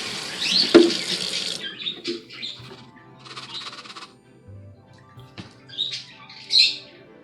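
Tap water runs over soaked bird seeds being washed for sprouting in a sink, with a steady rush at first, then intermittent splashing, while birds squawk and chirp nearby.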